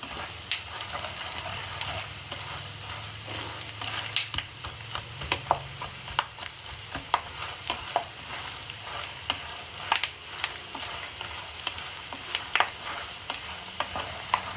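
Spiced flattened rice (avalakki) roasts in a pan until it turns reddish, giving a steady soft sizzle broken by frequent small crackles and stirring scrapes.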